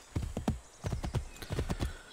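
Horse hooves in the video game Assassin's Creed III clip-clop at a quick, steady gallop, close and fairly loud, with a brief whinny-like tone mixed in.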